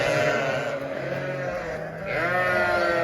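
Newborn three-day-old lambs bleat continuously in a barn, several overlapping high wavering cries close by and loud throughout with no talking.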